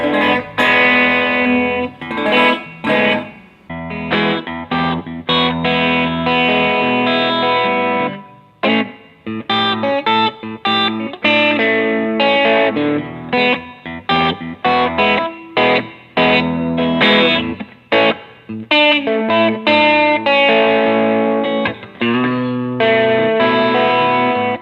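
Electric guitar played through a reverb effect, chords and single notes ringing out with a washy, spacious tail; loud and alone, no talking.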